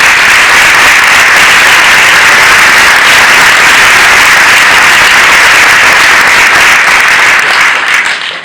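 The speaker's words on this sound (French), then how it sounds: "je crois qu'on peut encore vous applaudir" A large audience applauds loudly and continuously after a talk on facing adversity, a dense, steady roar of clapping that tails off only at the very end.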